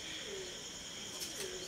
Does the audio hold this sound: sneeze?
no